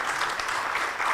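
An audience at an inaugural session for an educational trust event claps together, a dense, bright wash of applause that stays steady and fairly loud through the short moment, with no clear speech over it.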